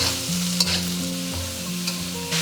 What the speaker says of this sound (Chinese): 然后我们开大火翻炒均匀